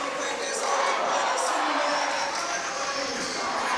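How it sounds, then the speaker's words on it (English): Loud, dense basketball crowd roaring and chanting during a timeout at an NCAA men's SCAC championship final, a sustained wall of cheering voices with no break. "Just listen to this crowd during the timeout."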